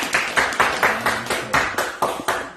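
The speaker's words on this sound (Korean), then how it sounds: "우리 축하 박수 한번 할까요?" A church congregation claps in unison in celebration, about nine crisp, evenly spaced claps in a steady rhythm, close and clear with no talking.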